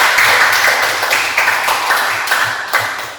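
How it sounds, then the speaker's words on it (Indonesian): Applause from a classroom of students after their presentations, a dense steady patter of many hands clapping at close range that slowly tapers over a few seconds. "Kita berikan tepuk tangan terlebih dahulu untuk kita semua"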